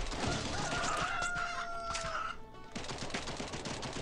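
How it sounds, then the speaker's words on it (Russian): Chickens cluck repeatedly in the mobile game Swamp Attack 2, mixed with dense game sound effects and music throughout, with a brief dip before the busy noise resumes. "Две курицы, которые сейчас уничтожат комары."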